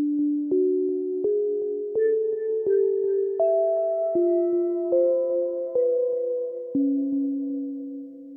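A twelve-tone style tone row melody plays as a slow sequence of about ten single sustained notes. Each note rings clearly and none repeats, with no voices.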